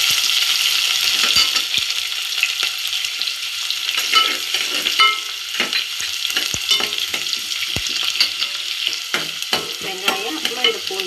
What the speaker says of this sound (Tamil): இப்போ வெந்தயமும் கடுகும் போட்டுக்கலாம்.